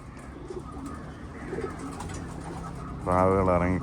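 Racing pigeons coo around a loft during the morning feeding routine, soft steady murmuring under background noise with a louder tonal burst near the end.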